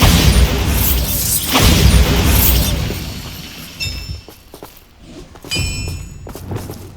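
A Bombarda blasting spell going off in Hogwarts Legacy, a loud close booming blast with a shattering crash that rumbles for a few seconds, then thuds and debris-like clatter as it fades.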